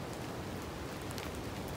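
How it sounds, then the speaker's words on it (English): Steady rain falling outdoors at a beach park in North Naples, Florida, a soft, even hiss that holds at constant loudness throughout with no voices. "Yeah, it's still raining here."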